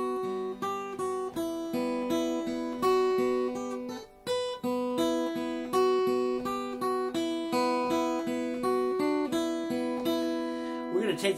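An acoustic guitar plays the introduction of a Celtic tune, with plucked melodic notes and chords in a lilting steady rhythm, close and clear, with a brief pause midway and no talking.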